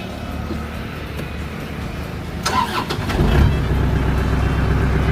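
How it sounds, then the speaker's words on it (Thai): A used Iseki 54 hp tractor, a 2017 model fitted with a blade and rotary tiller, cranks briefly and then its engine catches, settling into a steady, fairly loud idle nearby. "เดี๋ยวลองลองสตาร์ทเครื่องยนต์นะครับ"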